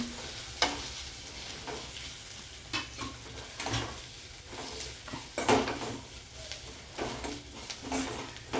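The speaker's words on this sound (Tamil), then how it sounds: "இதையும் நல்லா அப்படியே வதக்கி விடுங்க" Chilli powder and garam masala sauté in an oiled pan for white peas kurma: a soft continuous sizzle broken by repeated close scrapes and knocks of a spoon stirring against the pan.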